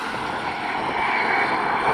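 A Bugatti Chiron Super Sport accelerating hard after a gearbox kickdown, a steady loud broadband engine and wind roar that rises slightly over two seconds.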